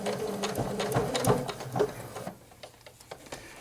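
Janome 8077 sewing machine stitching steadily, then running a back stitch at the end of a seam, its close, rapid mechanical chatter fading to a quieter, lighter clatter near the finish.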